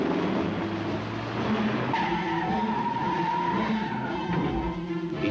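A Chrysler LeBaron GTS and a BMW 528e race hard, tires squealing in long skids over engine noise, loud and close without speech.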